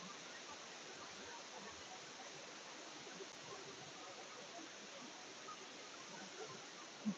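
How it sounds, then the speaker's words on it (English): The Water of Leith waterfall in Dean Village, Edinburgh, gives a constant, even rushing roar heard from a distance, steady and unbroken throughout, with a faint knock near the end. "Another view of that beautiful waterfall."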